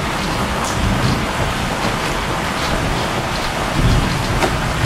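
Steady rain pours down outdoors during a thunderstorm, a dense, loud, continuous wash of noise with a faint low rumble underneath.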